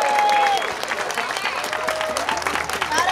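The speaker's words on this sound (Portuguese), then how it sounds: "Pessoal, aplausos pra Kátia!" Prize-draw audience at a flower race event in Holambra breaks into sustained applause, a dense steady wash of clapping lasting throughout.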